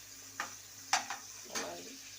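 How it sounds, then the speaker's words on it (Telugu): Ingredients for mushroom biryani fry in oil with a faint steady sizzle, punctuated by three or four quick spoon scrapes and clinks against the pan. "బాగా ఆయిల్లో బాయిల్ అవ్వాలి."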